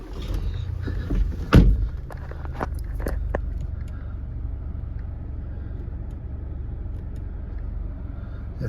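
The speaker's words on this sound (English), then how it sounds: "Just start the car up." A Land Rover Discovery Sport 2.0 TD4 diesel starts with a short crank and a sudden burst near the start, then settles into a steady, low idle rumble heard from inside the car, with a few faint clicks.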